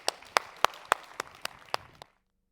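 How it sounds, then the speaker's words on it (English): A handful of separate claps from an audience introducing a speaker at a health technology conference, about eight evenly spaced, fairly close, ending abruptly into silence. "Round of applause."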